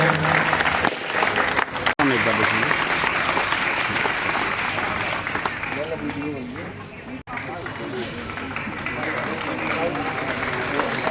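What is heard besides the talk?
audience applauding at a freshers' party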